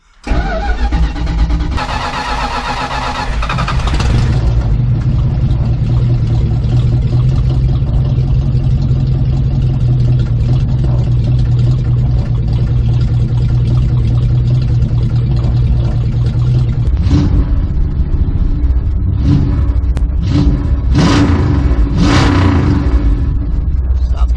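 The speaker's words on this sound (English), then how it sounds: "This would be a good chance to do a little cold start." An old Plymouth Fury engine cranks and catches on a cold start, then settles into a loud, steady, rumbling idle close by, with a few sharp revs near the end.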